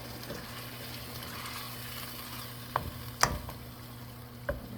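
Tomatoes stirred in a pot for chicken cacciatore, a quiet steady simmering hiss with a few sharp spoon taps against the pot, no voices.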